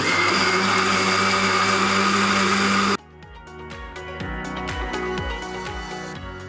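A mixer grinder processes dry spices with grated coconut and water, first as a loud, steady whirring roar that cuts off abruptly, then as a quieter, rhythmic churning hum.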